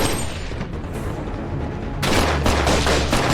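A gunfight from the film The Rip erupts in rapid bursts of gunfire, dense and loud, swelling into a heavier barrage partway through with booming low impacts.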